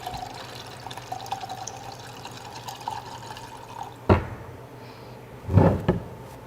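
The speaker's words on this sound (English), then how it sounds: "Next, the apple cider. I would do a healthy pour, maybe to up about half of the shaker glass" Apple cider poured into a cocktail shaker, a steady liquid trickle and fill sound followed by a couple of sharp clinks and splashes near the end, close and moderately loud.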